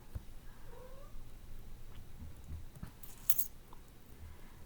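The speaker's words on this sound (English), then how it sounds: "My cat is making a lot of noise in the background," A cat meows a few times at a distance, faint and drawn out, over a low background hum with a sharp brief clink partway through.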